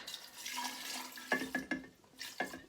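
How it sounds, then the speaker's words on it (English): Tea pours into a glass kombucha jar holding a SCOBY, a thin stream of liquid splashing in short bursts with a few pauses between. "I'm just gonna pour a little bit of this tea in."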